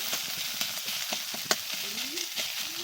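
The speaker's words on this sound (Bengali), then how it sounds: "থোড়টা আমি ভালো করে ভেজে নেব, একদম সুন্দর করে ভেজে নেব।" Banana stem frying in a pan, a continuous crackling sizzle punctuated by several spatula scrapes and clicks, close and moderately loud without speech.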